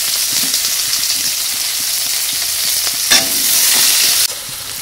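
Onions frying in mustard oil with a bay leaf in a kadai, a steady close, loud crackling sizzle with stirring scrapes, with a burst of hissing near the end.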